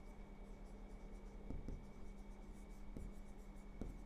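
Pen scratching steadily across paper while a math problem is worked out by hand, a continuous soft scraping with a few sharper strokes, close and alone.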